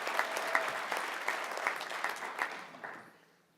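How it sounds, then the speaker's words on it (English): Audience applause at a retailer awards ceremony, a few seconds of dense clapping from a seated crowd that thins out and fades away at the end. "Let's give them one more round of applause."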